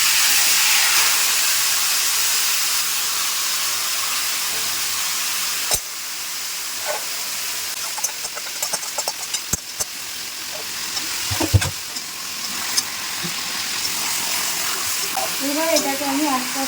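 Marinated chicken with bay leaves and whole garam masala fries in a pot, giving a steady loud sizzle and hiss. Occasional clinks and scrapes of stirring cut through it.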